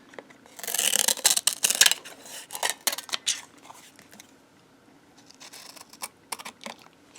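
Scissors trimming paper for a no-sew tag book, a quick run of crisp snips and cuts up close, then a pause and a second, lighter series of snips.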